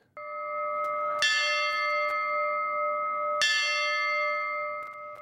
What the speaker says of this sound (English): Brooklyn Park plans to use a new donated bell to honor firefighters who have worked with the department for 5 years or more.